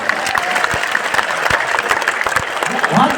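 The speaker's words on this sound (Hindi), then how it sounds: "दोनों हाथ उठा के पहले ताली बजाओ," Dense, steady hand clapping from a large crowd at a Mahashivratri religious gathering in Gadha Ganj, Madhya Pradesh, a continuous wash of claps with a voice singing or speaking over it.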